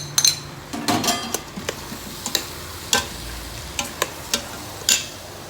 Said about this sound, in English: Now I'm going to add half a bunch of washed dill.